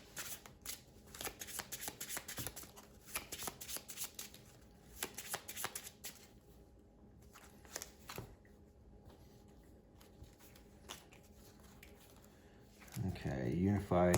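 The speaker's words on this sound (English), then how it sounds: "I need to shuffle." Playing cards for the Shards of Infinity deck-building game are shuffled close up in quick riffling bursts during the first half, then quieter handling follows, with a louder rustle at the end.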